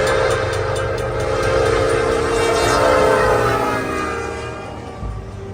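A southbound freight train rumbles past close by with a loud, steady roar and rattling wheels, a horn tone sustained over the noise before it slowly fades.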